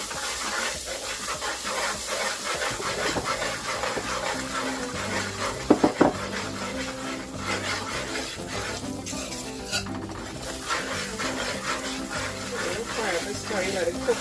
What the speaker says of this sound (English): Fry up the curry.